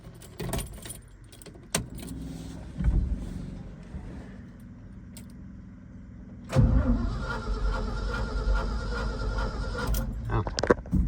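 A 1970 Ford 600 truck, set up as a hay retriever, cranks and catches at about the midpoint, then runs on with a loud, rough, steady engine rumble; keys jangle close by beforehand.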